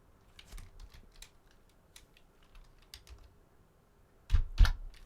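Fingers type on a quiet computer keyboard during a game-programming session, producing soft, quick, irregular clicks at close range, ending with a couple of louder thumping keystrokes.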